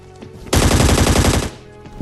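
A single sustained burst of rapid automatic gunfire in the mobile game ScarFall 2.0, loud and close, lasting about a second with no talking.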